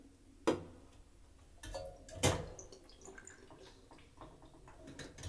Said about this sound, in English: I can hear it draining all the way down to the bottom